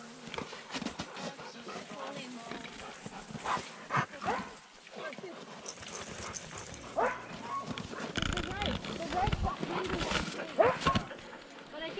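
Sled dogs in Norway bark, yip and whimper in a busy, overlapping chorus, close and fairly loud, while people talk over them throughout.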